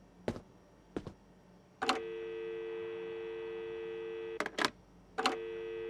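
A steady telephone tone sounds in the video game Adios, a held electronic hum broken by several sharp clicks and clacks of handling the handset, close and clear with no speech.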